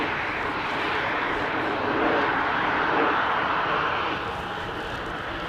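An ATR turboprop airliner passes directly overhead at Christchurch International Airport in wet, windy weather, a loud, steady broadband engine roar that swells to a peak midway and then eases slightly as it moves away.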